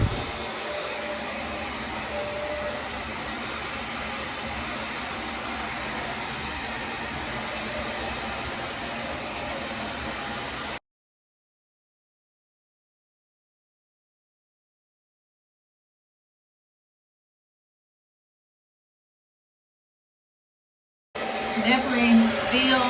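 A Conair Silver Bird hair dryer runs on its low setting as a steady, loud whoosh for about eleven seconds, then cuts to silence before a rougher burst of noise returns near the end.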